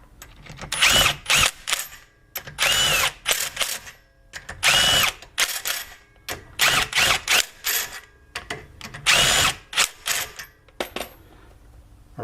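Power impact tool zipping wheel lug nuts onto 20mm hubcentric wheel spacers, firing in loud, sharp rattling bursts separated by short pauses, close and alone.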